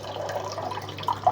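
Soaked rice is drained, its water trickling and dripping out in a brief, close, wet splatter with a couple of sharper drips near the end and no one talking.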